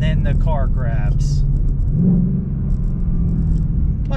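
Ford Mustang Dark Horse with a dual-clutch gearbox blipping revs on a downshift, a loud close engine rumble that rises and then settles as the gear grabs, under someone talking in the cabin.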